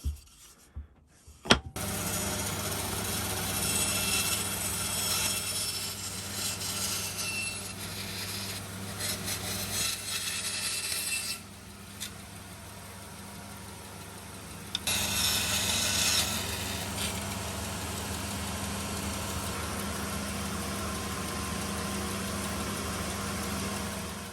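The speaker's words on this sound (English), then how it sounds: "So I'll just cut these in the bandsaw." A bandsaw cuts wood for a chisel holder, giving a steady motor hum with rasping cutting noise that rises and falls over several passes, close and continuous.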